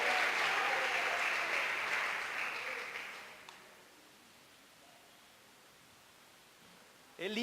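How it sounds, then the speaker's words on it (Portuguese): A church congregation claps for the Lord, a loud full burst of applause that tapers off after about three seconds into quiet room tone, with a brief rustle at the end. "Pode aplaudir o Senhor mesmo"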